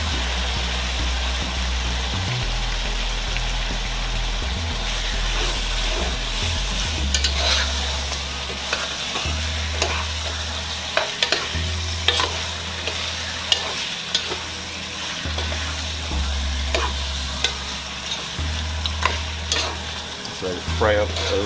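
Chicken pieces for Jamaican stew chicken fry steadily in a pot, a continuous sizzle with occasional stirring scrapes and turning clatter, close and fairly loud, with a low droning hum underneath and no talking.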